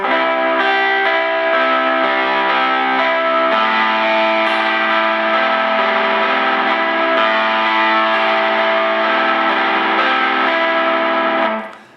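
An electric guitar slowly picks the arpeggiated section of a song, sustained ringing notes blending into a continuous distorted chord wash that shifts partway through, loud and close, ending abruptly.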